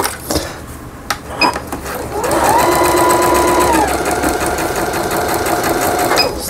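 A Singer 7640 household sewing machine stitching: after a few brief clicks, a loud, steady mechanical whir with a fast needle rattle runs for several seconds, close to the listener and with no talking.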